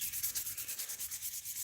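A knife blade is hand-sanded at a vise, with quick, even back-and-forth rubbing strokes repeating about six times a second, close and moderately quiet, with no voices.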